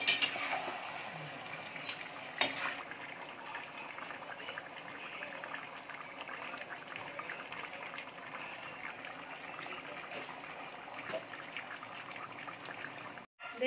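Chicken with slit green chillies and salt being stirred in a kadai, a steady low sizzle and bubbling with a few soft clinks of the spoon against the pan.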